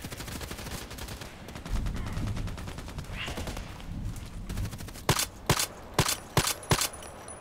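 Gunfire in the shooter game ADXsniper: scattered, muffled shots early, then a clear run of about seven sharp, loud cracks spaced roughly half a second apart near the end.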